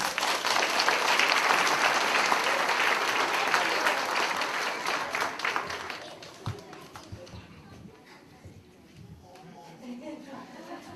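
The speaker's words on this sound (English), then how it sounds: "let's give a big round of applause for our kindergartners" An audience applauds kindergartners at a school assembly, a broad, loud wash of clapping for about six seconds that thins into scattered claps and murmuring voices.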